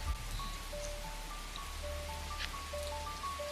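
Rain falls steadily and softly at night during a storm, a faint, even patter with a low rumble underneath and scattered thin tonal chirps over it.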